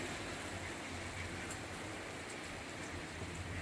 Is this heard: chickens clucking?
no